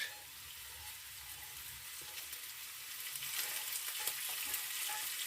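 Minced meat frying on top of potatoes in a frying pan, a steady close sizzle over turned-down heat that grows slightly louder toward the end, with no speech.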